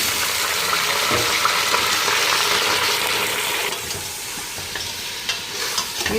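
Meat stirred and fried in oil and ghee for Lahori hareesa, with steady close sizzling and scraping stir strokes throughout, slightly softer toward the end, no talk.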